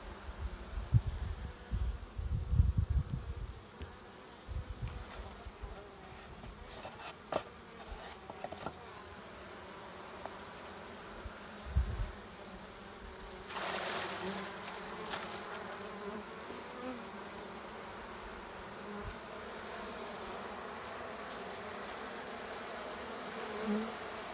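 Honey bees buzz steadily around their hives in an apiary, a continuous close swarm drone with brief louder passes near the start, no voices.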